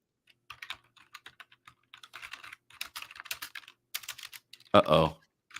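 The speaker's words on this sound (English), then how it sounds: "I just hear his keyboard cracking away" Rapid typing on a computer keyboard, a steady clatter of quick keystrokes in bursts, fairly close, ending with a brief louder thump.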